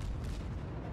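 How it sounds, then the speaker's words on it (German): Naval guns fire at an enemy cruiser in the World of Warships game, a heavy booming rumble of shelling that fills the brief moment, loud and low without any talk. "Versuche gerade ordentlich die Miyogi zu beschießen"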